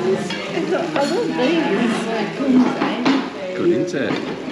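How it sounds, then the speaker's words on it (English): Noodles sizzle and crackle steadily in a pan, with stirring clatter and people talking over it. "Oh, look at that sizzle."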